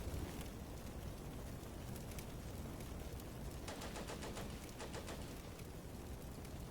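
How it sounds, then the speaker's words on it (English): Machine gun fire rattles through a battle in the WWII strategy game Combat Mission Beyond Overlord, French against Germans, with a steady noisy wash of distant gunfire and clusters of sharper bursts near the middle of the stretch. "there we go, some MG fire"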